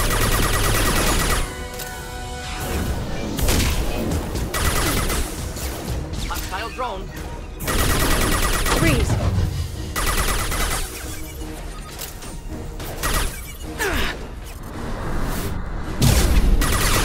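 Bursts of submachine gun fire in the game Mass Effect 2 come in several loud clustered volleys mixed with impacts, while a voice talks over the combat.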